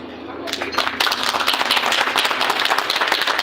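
Rotarians clap heartily at an installation ceremony for a club president and board, a dense burst of crowd applause that starts abruptly and carries on steadily to the end.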